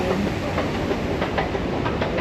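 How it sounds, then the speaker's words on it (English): Trains moving through a large European railway station, a loud, steady rolling rumble with faint rhythmic clicking of wheels over rail joints and a thin hiss above, no talk heard. "I don't know how many trains are like in the process of coming and going right now"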